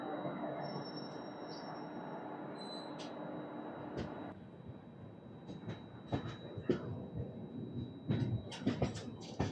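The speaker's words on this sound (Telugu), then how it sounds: "16853 తిరుపతి విల్లీపురం ఇంటర్సిటీ ఎక్స్ప్రెస్" Tirupati–Villupuram Intercity Express 16853 hauled by a VAP1 locomotive, heard fairly distant and quiet as a steady rumble with occasional wheel squeals and clanks near the end.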